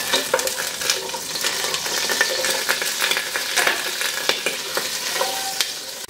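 Small peeled new potatoes fry in oil in a saucepan for a vegetable khichuri, crackling and spitting steadily up close with light metallic knocks from stirring, and no one talking.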